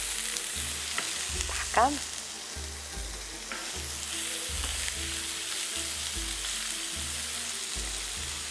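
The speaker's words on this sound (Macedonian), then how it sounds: "Сега ќе го ставам кромитот да се запрши." Chopped onions sizzle steadily in hot oil in a frying pan for a lean eggplant moussaka, with regular stirring scrapes at close range and one brief spoken word.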